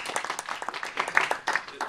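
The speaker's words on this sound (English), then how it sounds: "A little applause for that." Brief, scattered audience applause at a Joomla/Nooku presentation in Stockholm, a sparse patter of claps mixed with some voices, lasting a couple of seconds.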